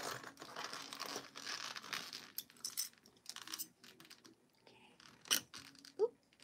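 Jelly vinyl being handled while a zipper is opened on a sewn travel pouch, giving busy, close crinkling and crackling that comes in irregular bursts, with a few sharp snaps near the end.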